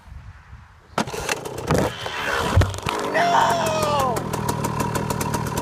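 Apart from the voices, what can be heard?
KTM 125 SX dirt bike with Pro Circuit R304 silencer riding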